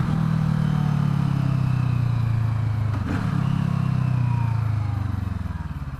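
A CFMOTO 650NK motorcycle drones steadily while riding, its mid-pitched engine note dipping briefly around a gear change before resuming, continuous and close under wind.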